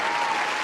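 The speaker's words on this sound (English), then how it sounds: "Just give him a round of applause." A brief, dense burst of crowd applause, steady and fairly loud clapping from many hands.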